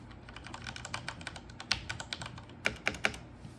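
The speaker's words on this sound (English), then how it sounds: "K63 Special Edition keyboard." Keys clatter on a Corsair K63 Wireless Special Edition gaming keyboard with Cherry switches, a close, uneven stream of clicks with a few sharper, louder strokes near the end.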